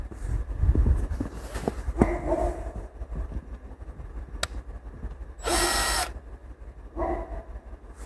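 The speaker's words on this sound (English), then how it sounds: "I don't have this hole drilled completely, but I'm already seeing the sap coming out" Power drill boring a tap hole into a maple tree for sap collection outdoors, with a few short whirring bursts, one louder and steadier run near the end, amid light background noise.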